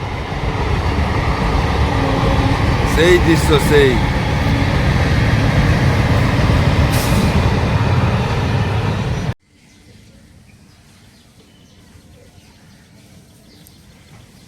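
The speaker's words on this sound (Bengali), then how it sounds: "দমদম থেকে ট্রেন যাচ্ছে সিধে বেলগড়িয়া" A suburban train runs from Dum Dum toward Belgharia at about 6:30 in the morning, a loud steady rumble and rattle for roughly nine seconds that cuts off abruptly into quiet, with a voice speaking briefly.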